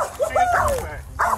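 Police dog during an arrest, giving a few close, sharp yips and whimpering barks in quick bursts.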